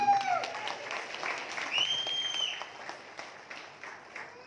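An audience at a Janasena political meeting in Malaysia claps, with a burst of dense applause at the start that thins to scattered claps, while whistles and a few voices rise over it.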